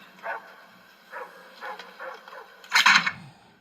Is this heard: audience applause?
no